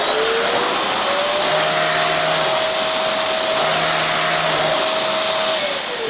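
A Raycop RS-300 bedding vacuum cleaner runs steadily and loudly at close range, a continuous motor whine with a rising and falling tone held throughout, with no voices.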